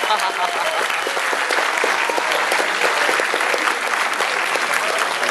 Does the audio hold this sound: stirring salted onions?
no